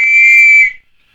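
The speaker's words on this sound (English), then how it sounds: "I bet I can whistle louder than you." A single loud, shrill human whistle holds one steady pitch for well under a second and then stops abruptly, with no other sound.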